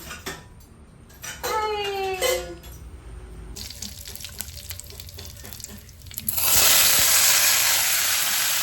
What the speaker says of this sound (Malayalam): എന്നിട്ട് വേഗം ഞാൻ പാത്രങ്ങൾ കഴുകാണ്ടായിരുന്നു കുറച്ച്. അപ്പോൾ അത് വേഗം കഴുകി വെക്കുകയാണ്.